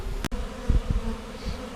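A honeybee swarm hums steadily and nearby throughout, with low buzzing filling the background and a sharp knock or thump near the start.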